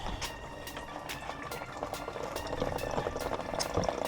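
Engine coolant draining out after the thermostat housing bolts are loosened, a steady bubbling, gurgling liquid stream running continuously and close, with faint ticks over it.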